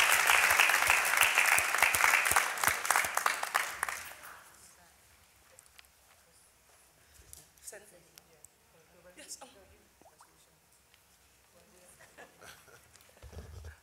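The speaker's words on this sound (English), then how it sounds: "Let's give a round of applause as my colleagues come forward to make this presentation" Loud applause fills a city council chamber during a meeting, fading out after about four seconds. Quieter room noise and footsteps follow as people move forward.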